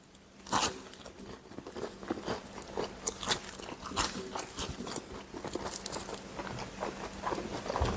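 Crisp, crunchy bites into a Greggs steak bake's flaky pastry, followed by close, wet chewing that repeats in irregular bursts over several seconds.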